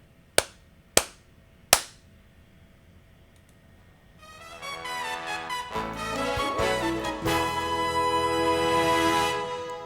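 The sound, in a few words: three hand claps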